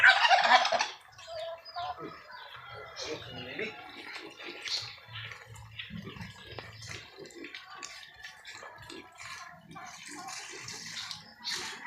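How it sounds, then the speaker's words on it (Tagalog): A turkey gobbles loudly at the very start, then fainter bird calls and scattered voices carry on in the background. "Pabo. Oh, pabo."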